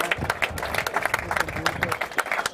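Audience applause at an amateur football awards gala, a steady patter of many hands clapping at moderate volume with a murmur of voices mixed in.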